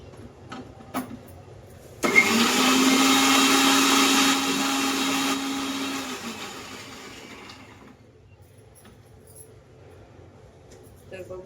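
A blender grinds a masala paste with kokum, starting abruptly with a loud whirring roar that holds for several seconds, then winds down and fades, leaving quiet room noise.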